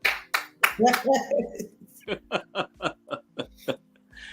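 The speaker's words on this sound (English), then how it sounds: "You hear the producer over there clapping for you." A studio producer claps about ten times in a slow, steady run, loud and close, just after a burst of chuckling voices and with no talk over the claps.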